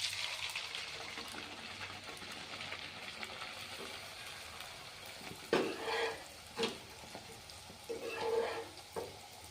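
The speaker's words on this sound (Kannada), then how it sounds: "ಈ ರೀತಿನೂ ಫ್ರೈ ಮಾಡ್ಬೋದು, ಪೂರಿ ಥರನೂ ಮಸ್ತ್ ಬರ್ತಾವೆ ಇವನು." Masala puri made with flattened rice and potato fries in hot oil, a continuous crackling sizzle with louder bubbling bursts as the pieces are stirred and turned. No one speaks.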